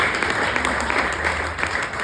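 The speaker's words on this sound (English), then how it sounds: "That minimal amount of clapping is about the accurate amount of clapping." Sparse, short-lived clapping from a small comedy-show audience at a winery, a light patter of hands with some murmur beneath it.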